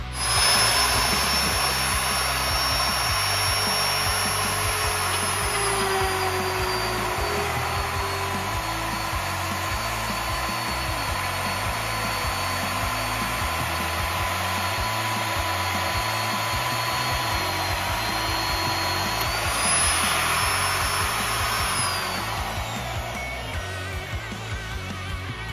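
A Fein Short Slugger II magnetic drill runs with a steady, loud motor whine and a high pitched drilling hum, continuously close by, shifting slightly in pitch partway through.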